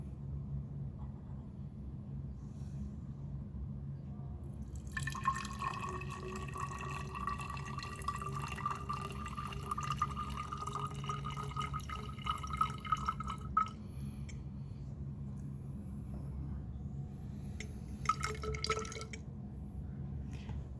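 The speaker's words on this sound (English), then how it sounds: "add distilled water into the graduated cylinder till about the 30 or 40" Distilled water poured into a glass graduated cylinder at a lab bench, a steady trickling pour running for several seconds over a low room hum, with a brief second splash near the end.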